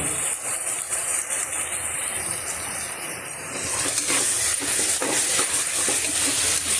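A ground paste of coconut, coriander, mint and tomato fries in oil in a pan, giving a continuous bright sizzle and hiss that grows louder partway through, with occasional stirring scrapes.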